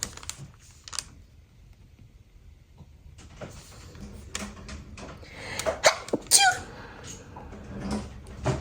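A person sneezes amid quiet indoor sounds of keyboard typing and small handling noises, the sneeze a sharp, loud burst near the end after several softer clicks and rustles.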